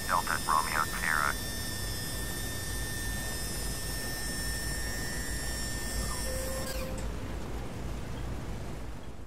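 A B-17G bomber in the Flight Simulator X game taxis on the ground with a steady, droning engine rumble and hum throughout. Brief radio-like tones sound at the start, and high whining tones fade out near the end.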